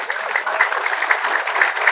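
An audience applauds at a Kenduri Cinta gathering, a steady wash of clapping from many hands that holds evenly throughout.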